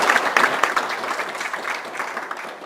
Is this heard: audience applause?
yes